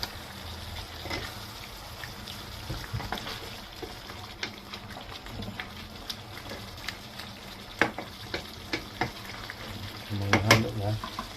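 Chicken caldereta sizzles in a pan as it is stirred, with irregular scraping and clinking of a utensil over a constant frying hiss, growing busier toward the end.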